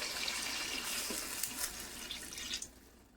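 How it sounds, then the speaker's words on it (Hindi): Water is poured into a pot of frying desi chicken, giving a steady rushing splash with a hiss that lasts a few seconds and tapers off at the end. "तो अब हम इसमें पानी ऐड करेंगे।"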